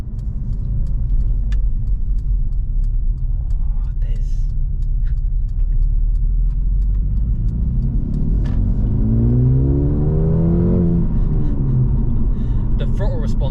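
Mercedes-AMG A35 engine pulling under acceleration on a road drive, a steady loud cabin rumble with a rising rev sweep in the second half, a short voice heard faintly over it.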